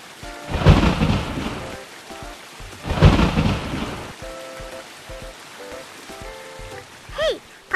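Cartoon thunderstorm effect: two deep rolling thunder crashes a couple of seconds apart over steady rain, loud and close, followed by quieter rain with faint musical tones at the end.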